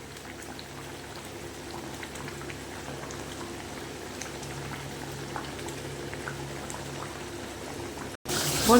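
Cabbage curry with fried fritters simmers in a pot, a steady close bubbling and soft popping that holds evenly throughout, ending with a brief sharp cut and a louder clatter at the close.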